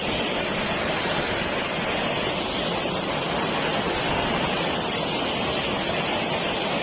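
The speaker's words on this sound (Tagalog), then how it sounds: "grabe kahilog yung tubig diri oh" Loud, steady roar of a rushing waterfall, continuous broadband water noise with no breaks and no voices.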